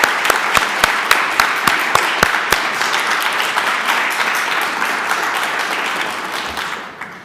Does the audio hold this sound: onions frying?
no